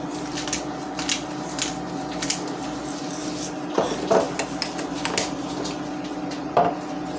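A pepper mill grinding a peppercorn medley, four turns giving short scraping crunches with faint clicks in a quiet kitchen, each twist a brief gritty burst.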